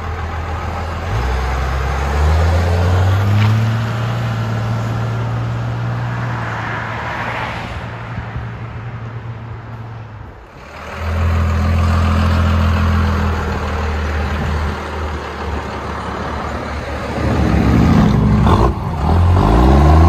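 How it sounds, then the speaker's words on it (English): A Dodge Ram's 5.9L Cummins turbo diesel rumbles at a deep, steady idle through a Magnaflow 30-inch muffler and 3-inch tailpipe, close and loud, dipping briefly before settling back and swelling in a short rev at the end. "Cummins diesel. MAGNAFLOW 30-inch muffler, 3-inch tailpipe."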